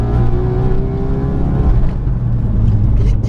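A 430 bhp wide-arched, fully forged Ford Focus RS engine pulls hard and loud with a droning, rising rumble that dips briefly as a gear changes.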